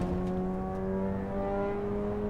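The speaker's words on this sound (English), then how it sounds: "Like the downshifting, like the, you know, like the exhaust rattling and things" A race car in the Assetto Corsa Evo video game drones with a steady, loud engine note holding constant tones throughout, with faint rattling clicks near the start and no clear downshifts; no voices.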